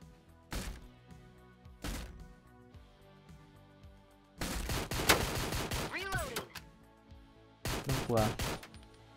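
SWAT team gunfire in Door Kickers: Action Squad rings out in sharp bursts: two single shots early, then a longer rapid volley, a pause, and another loud flurry near the end.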